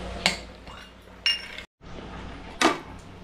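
Spoons clink against bowls of curd as they are served at a home-stay chicken and fish thali meal, three sharp metallic taps spaced apart over a quiet room.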